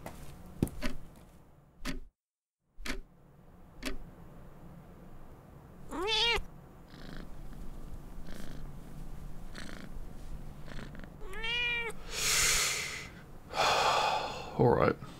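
A cat purrs and gives several short meows, close and soft, between quieter stretches, while a voice speaks gently over the sounds.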